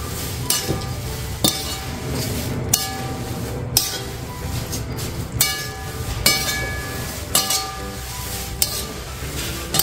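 Poha flakes roasting in a pan over low gas for chivda, stirred steadily with repeated scraping strokes and a light sizzle, each sharp scrape standing out above a continuous low hiss.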